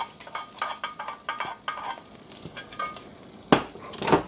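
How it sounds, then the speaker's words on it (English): Peppers and onions hit a pan with chicken juices, giving a soft sizzle under rhythmic stirring and scraping. Two louder clatters of utensil on pan come near the end, close and without talk. "now I'm going to put in my peppers and onions so I can soak up these juices"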